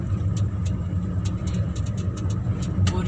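A car engine runs smoothly in third gear, a steady low hum from inside the cabin with faint light ticks above it.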